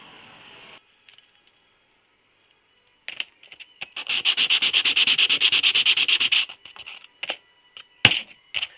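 An annealed part for a 650 Triumph Bonneville is sanded by hand, a loud, fast rhythmic rasping of even strokes lasting a couple of seconds, framed by scattered scrapes and taps close by.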